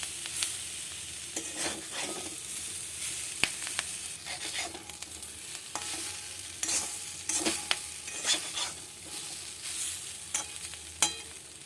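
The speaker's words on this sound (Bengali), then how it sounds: "বেসন মশলা সব একসঙ্গে ভালো করে ভেজে নিতে হবে।" Gram flour and spices fry with capsicum and potatoes in a pan, an even close sizzle broken by frequent scraping clicks of a spatula stirring throughout.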